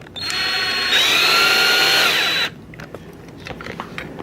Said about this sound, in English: I cut the hex key off and I put it into the drill